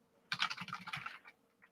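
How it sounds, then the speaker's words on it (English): Fast typing on a computer keyboard during a live brewery bottleshare and Q&A stream, a quick burst of dense clicking keystrokes that tapers into a few scattered taps, heard alone without talk. "So let's see me typing a little bit fast here"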